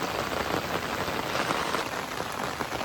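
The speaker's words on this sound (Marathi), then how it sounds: "पाऊस काय आता थांबणार तुला दिसत नाही आहे, कंटिन्यू चालू ठेवणार" Steady, continuous rain pours under dark clouds, a dense, even hiss of drops on surfaces that holds at constant loudness throughout with no pauses.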